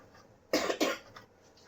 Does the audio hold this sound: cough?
yes